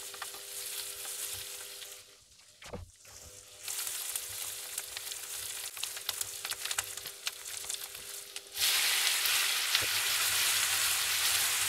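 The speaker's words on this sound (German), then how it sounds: "Geht es jetzt hier erstmal noch weiter mit dem Anbraten der Spätzle." Spätzle frying in a pan with butter and onions, a steady close sizzle with bursts of crackling and occasional stirring, growing louder near the end, with no voices.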